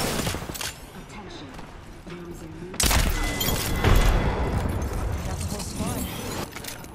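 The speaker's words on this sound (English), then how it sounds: "Look out, grenade." A grenade goes off in Apex Legends, a sudden loud broadband boom at mid-clip followed by a second thud and continuing gunfire amid game noise, with players talking over it.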